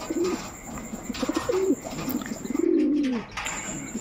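Close pigeons coo in several throaty, rolling bursts, with brief pauses between calls and a longer, fuller coo near the end over a faint steady hum.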